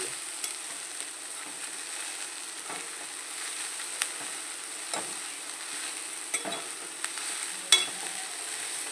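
Spinach buttermilk curry being stirred in a pan in a home kitchen, a soft bubbling sizzle with light repeated scrapes and taps of a spoon against the pan, quiet and close, no talking.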